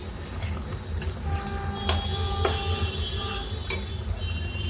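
Village-style chicken curry being stirred in a pot, with soft wet scraping and a few sharper metallic clinks of a spoon against the pot over a steady low background hum.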